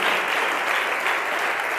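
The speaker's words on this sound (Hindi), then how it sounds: "मैं चाहूँगा कि बदाल सर के लिए एक बार जोरदार तालियां बजा दें" Dense, steady applause from a seminar audience honoring a speaker, filling the room for a couple of seconds without any voices over it.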